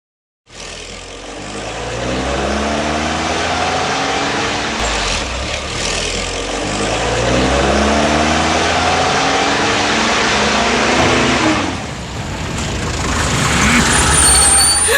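A tractor's diesel engine runs loud and steady on a village road, with a low harmonic rumble that shifts pitch as it revs, alone and continuous throughout.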